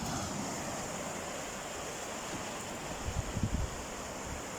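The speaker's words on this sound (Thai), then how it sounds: "วันนี้เป็นคลื่นนะครับ" Choppy ocean waves roll in at a beach along a coastal fishing shore just before dawn, a continuous surf hiss with a few heavier rumbling breaks near the end and no talk.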